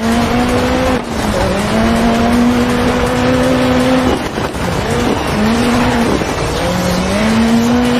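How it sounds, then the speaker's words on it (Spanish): A rally car drifting in a rallycross racing game, its engine droning loudly with rising and falling revs between gear changes, over steady tire noise and skidding as it slides through corners. "ya me estoy acostumbrando a derrapar allí"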